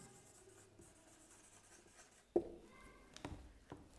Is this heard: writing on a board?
yes